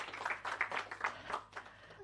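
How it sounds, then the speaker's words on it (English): Audience at a patient empowerment summit clapping for a woman on stage, a burst of distinct handclaps at moderate volume that thins out toward the end, with a low hum underneath. "Can we give this woman a round of applause?"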